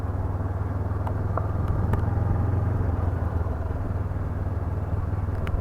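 A 2019 Honda CB500X motorcycle rides through woods near a small Spanish village, its engine a steady, close, low rumble that continues unbroken, with faint wind and a few light ticks over it.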